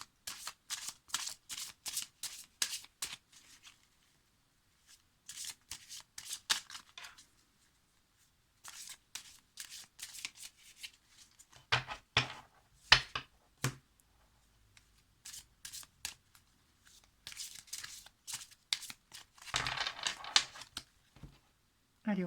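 Lenormand tarot cards are shuffled by hand in repeated quick rustling bursts with short pauses between them. The riffling is crisp, close and fairly quiet.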